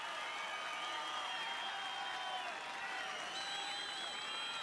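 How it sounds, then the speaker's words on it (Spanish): Festival crowd at the Huaso de Olmué show applauding Huaso Filomeno, a continuous wash of clapping heard from a distance and fairly faint, with cheering mixed in. "El aplauso fuerte para el Guaso Filomeno."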